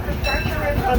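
The Disneyland Railroad train, Excursion 3, rumbles low and steady as it pulls into Tomorrowland Station, a continuous rolling drone underneath an announcer's voice.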